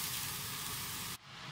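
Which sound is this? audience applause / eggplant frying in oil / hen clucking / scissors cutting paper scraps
eggplant frying in oil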